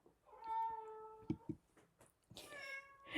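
A cat meows several times in drawn-out, tonal cries, close to the microphone, with a couple of short thumps in between.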